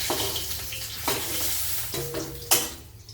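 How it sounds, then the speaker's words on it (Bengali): Pieces of snakehead fish (shol) frying crisp in hot oil for a Bengali kalia, a steady sizzle broken by a few sharp stirring scrapes and spatters, close by with no talk. "শোল মাছটা একটু কড়া করেই ভাজতে হয়"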